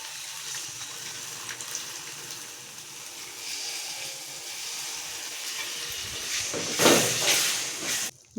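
Tamarind water poured into hot oil in a pan of dried fish curry, a loud steady sizzle and hiss that swells into a sharper, louder burst near the end, with no voices.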